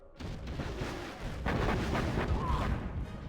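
Artillery fire in a competitive real-time strategy video game, heard as a dense, continuous rumble of booming impacts and blasts that swells and stays loud throughout, with no talking.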